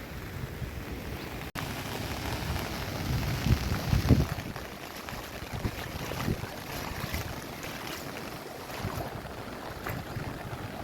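Heavy monsoon rain pours down steadily in Gir, a dense rushing roar mixed with gusty wind buffeting the microphone.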